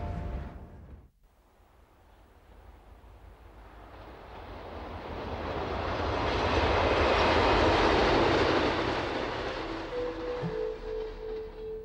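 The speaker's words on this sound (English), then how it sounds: "Cook is a railway town. Train times dictate the tempo of daily life" A train passing through the railway town of Cook, rising into a broad, loud rumbling roar that peaks midway, then fades as a horn-like tone sounds near the end, with no talking.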